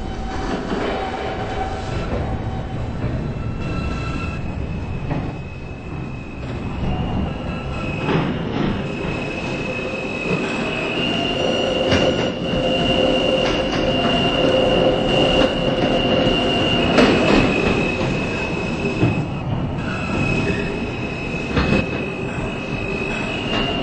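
A New York City subway Q express train running steadily, its car wheels squealing loudly in long high tones over a constant rumble and rail noise, heard up close inside the train for the whole stretch.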